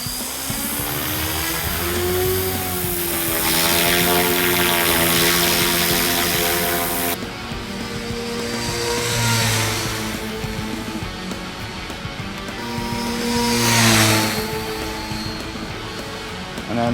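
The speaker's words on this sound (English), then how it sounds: "when I want to open it up like that, then I can just push the throttle further forward" Model aircraft engine throttled up in flight, a loud buzzing whine with rising and falling pitch as it passes, surging louder in waves, with brief talk faintly underneath.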